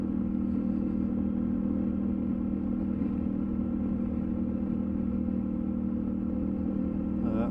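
KTM 1290 Super Adventure motorcycle being ridden on a road in Wales, a steady, loud engine drone with constant low rumble and wind, unbroken for the whole stretch, with no talking.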